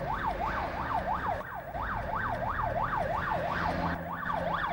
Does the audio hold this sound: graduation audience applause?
no